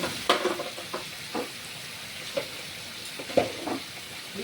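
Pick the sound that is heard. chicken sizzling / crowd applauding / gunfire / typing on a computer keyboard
chicken sizzling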